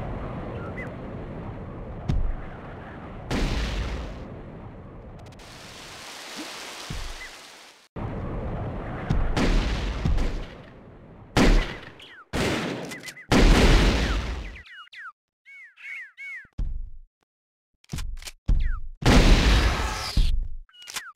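Plasma rifle fire in the T2 video game: repeated bursts of loud energy-weapon shots in separate volleys, broken by short gaps and a few quick chirping zaps near the end.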